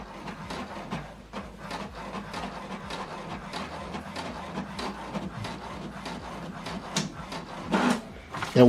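An HP Deskjet All-in-One inkjet printer works through a page with rhythmic mechanical clicks and sliding feeds, a soft whir rising near the end.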